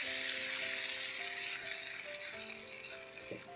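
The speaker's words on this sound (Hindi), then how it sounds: "चम्मच चला के इसे पकाएंगे 1-2 मिनट के लिए लो फ्लेम पे।" Chicken pie stuffing with oregano cooks on a low flame while a spoon stirs it, giving a steady, moderate sizzle throughout, with a few soft stirring sounds and sustained tonal notes running underneath.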